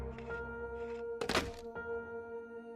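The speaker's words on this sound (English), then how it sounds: "Step 2. Remove OEM trigger group." The factory trigger group comes out of a gun with a few soft mechanical clicks and one solid, close thunk, set against quiet background hum.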